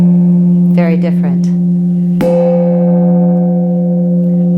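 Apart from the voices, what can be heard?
hand held gong struck with a mallet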